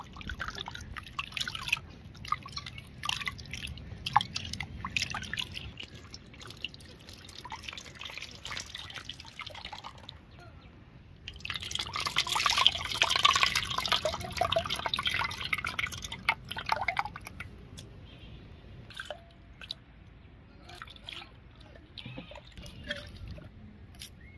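Water drips and trickles while tamarind is dissolved by hand for a tongue fish curry, with intermittent splashes, a louder burst of running water in the middle, and small handling noises throughout.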